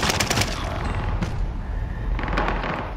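Call of Duty gunfire rattles in two short automatic bursts, one at the start and another near the end, loud and close over a rumbling battlefield background.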